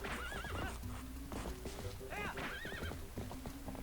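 Galloping hoofbeats drum steadily from a horse in The Legend of Zelda: Twilight Princess, broken by several warbling neighs, with game sounds mixed underneath.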